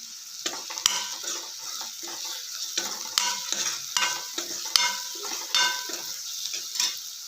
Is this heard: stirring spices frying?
yes